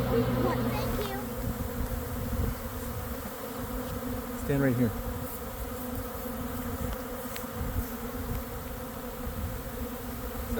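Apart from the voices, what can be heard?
swarm of honeybees arriving at a nucleus hive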